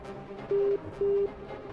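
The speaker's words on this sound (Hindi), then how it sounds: "फोन लाइन डिस्कनेक्ट हुआ" A disconnected phone line gives a busy tone: two short, steady electronic beeps, evenly spaced, over a low background hiss.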